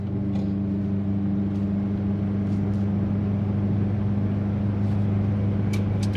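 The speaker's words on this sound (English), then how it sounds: "I'm just gonna drop down into third gear." A Skoda car engine labours steadily in third gear up a steep hill on a small country road, a continuous low droning hum with a constant tone and no gear changes, heard from inside the car with no talking.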